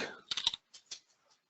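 Quick bursts of keystrokes on a computer keyboard, a tight cluster of clicks followed by a few scattered taps, close and clear, with no talk over them.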